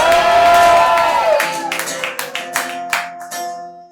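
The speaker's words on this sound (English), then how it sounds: "Guys, give her an applause going for Tatum Price!" Live late-show studio audience applauding and cheering a comedian as she is introduced, a dense loud wash of clapping with whoops and a music sting fading out.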